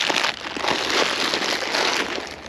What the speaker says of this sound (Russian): Это пакет у меня шуршит от тапок